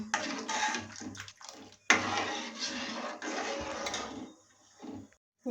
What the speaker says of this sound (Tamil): பாருங்கள், நல்லா வந்து கொதிச்சிட்ருக்கு. ஆவி பறக்குது.